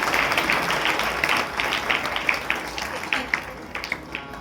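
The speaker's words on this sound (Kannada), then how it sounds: "ಜೋರಾಗಿ ಚಪ್ಪಾಳೆಯನ್ನು ತಟ್ಟಬೇಕು ತಾವೆಲ್ಲ" An audience at a religious purana recital claps in a rhythmic, somewhat uneven patter, with the applause thinning and grouping into scattered claps toward the end.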